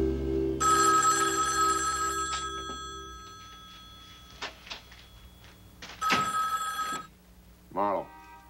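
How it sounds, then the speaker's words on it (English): A telephone bell rings in an office, two long trilling bursts separated by a pause, fairly close and clear, with door thunks, footsteps and a voice in between. "The phone was ringing."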